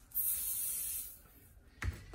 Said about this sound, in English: I'm gonna spray it with some 505 temporary adhesive on the backside